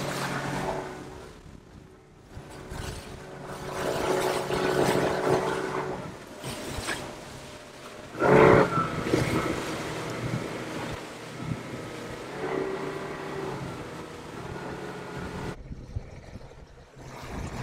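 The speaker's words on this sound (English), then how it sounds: "It is windy and bumpy." Wind buffeting a fishing boat on a choppy, bumpy ride back to the dock in the Florida Keys, steady rushing gusts and water slap with a louder thump of spray midway, fading near the end.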